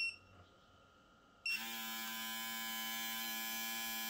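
A UFree U1376 electric foil shaver switches on abruptly after a quiet moment and runs with a steady, high-pitched motor whine and buzz, close and continuous.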